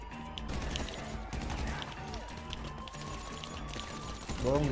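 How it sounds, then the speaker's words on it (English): Rapid gunfire bursts in GTA 5 crackle in quick repeated volleys over a busy game mix, with someone talking through and across the shots. "Shooting at me, son."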